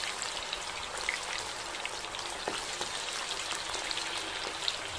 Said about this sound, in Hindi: हम बाकी के भी फ्राई कर लेंगे।